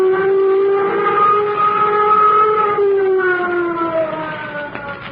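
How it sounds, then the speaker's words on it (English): Flight warning siren as a radio drama sound effect, a loud steady wailing tone with a slowly falling pitch, heard alone and sustained across the whole stretch. "Sound flight warning signal."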